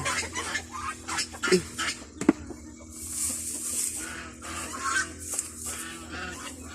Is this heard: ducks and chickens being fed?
yes